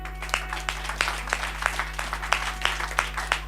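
A church congregation claps in quick, uneven bursts over a steady low electrical hum, moderately close, with scattered voices mixed into the clapping.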